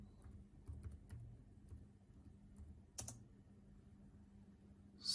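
A command is typed on a computer keyboard as quiet, close keystroke clicks in short clusters, with one sharper clack near the end, in an otherwise quiet room.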